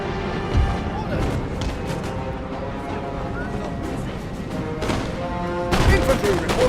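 Infantry volleys crack out in a Napoleon: Total War battle, sharp gunfire bursts near the start and a heavier volley near the end, with shouted commands and battlefield voices over a constant rumble.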